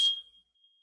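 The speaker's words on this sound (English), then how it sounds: "It's a smoke detector sound" A household smoke detector gives a single sharp electronic chirp, a bright tone that starts with a burst and then fades to a faint, lingering ring.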